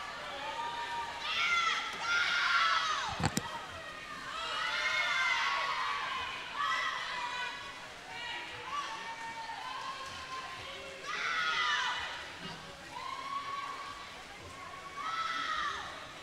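Crowd at a swimming meet, the Rose Invitational, screaming and cheering in loud swelling waves that rise and fall over about sixteen seconds, with a sharp bang partway through.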